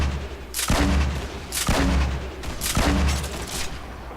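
Grenade blasts and gunfire in the video game Fortnite: three heavy, booming explosions about a second apart, each with a sharp crack and a rumbling tail, loud and close with no talk.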